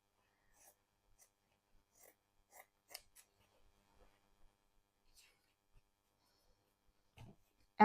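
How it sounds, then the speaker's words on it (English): Scissors snip through a small piece of fabric in a series of soft, crisp cuts spaced unevenly, close and quiet against near silence, ending with a louder rustle. "I just cut down a small piece of fabric here"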